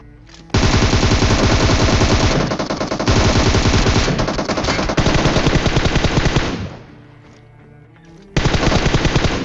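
Automatic gunfire in a PUBG match: loud, rapid sustained bursts from close range, one long run with a brief gap, a quieter lull near the end, then another burst.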